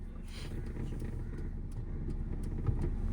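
A car moves off slowly as a learner driver gradually releases the clutch on a first day of driving lessons, with a low, steady engine hum close by and faint road noise.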